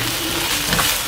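Masala paste for mushroom biryani sautéing in a pan, a loud continuous sizzling hiss with faint scraping stirs, close and steady for about a second.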